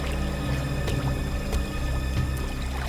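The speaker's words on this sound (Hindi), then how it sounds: "सर इस तरफ से पानी के बहने की आवाज आ रही है।" Water flows through a dense forest in a continuous, fairly loud rushing wash that holds steady throughout, with no voices.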